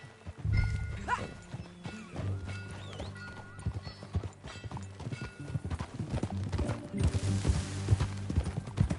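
Hooves of a horse in the video game Red Dead Redemption 2 clip-clop in a steady rhythm with the horse whinnying partway through, over a low background hum and soft music.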